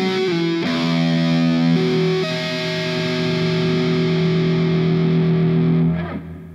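Distorted electric guitar plays a short tapped passage of sustained, ringing notes, then fades out at the end.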